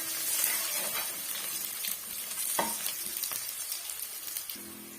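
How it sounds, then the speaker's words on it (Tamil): Garlic sautéing with mustard seeds in a pan, a steady close sizzle with occasional stirring scrapes and small pops, no talking. "சேர்த்துட்டு நல்லா இந்த வெள்ளை பூண்டை நல்லா வதக்கி விட்டுக்கலாங்க"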